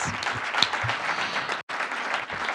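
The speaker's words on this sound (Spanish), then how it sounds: "Así que este aplauso es para las de FEMES." A conference crowd at a congress closing session breaks into loud, full applause, broken by a brief dropout partway through before the clapping resumes just as strongly.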